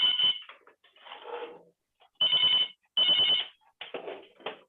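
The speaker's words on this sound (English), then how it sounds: "Sorry, I think some ring is ringing somewhere." An electronic telephone ringer in the room trills in repeated bursts, loud and close, with short silent gaps between the rings and no talking.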